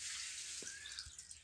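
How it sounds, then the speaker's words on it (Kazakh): Water runs into a cement-plastered pool built for geese, making a faint, steady hissing flow with a couple of soft, low drips or plops. "Міне бассейнге су толтырып отырмыз."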